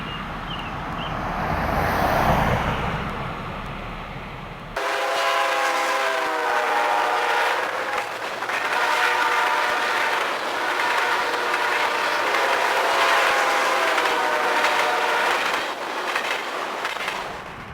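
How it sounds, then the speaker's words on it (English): A CSX freight train rumbles through the middle of a small town where the rail line crosses Main Street, its horn blaring loud and sustained over steady rolling rail noise after a quieter opening. "a major rail line for CSX trains crosses Main Street."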